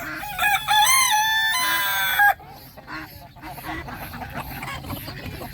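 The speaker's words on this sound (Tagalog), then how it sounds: "Ganda ng tandang oh." A rooster crows loudly and close by on a farm in Al Khor, Qatar, where turkeys and ducks mix with the fowl. The long crow breaks off sharply, and softer clucking and quacking from the flock carry on behind.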